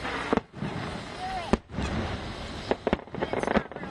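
Distant fireworks from a large display thud and pop faintly, a few separated booms and crackles over a low crowd murmur, with people talking nearby.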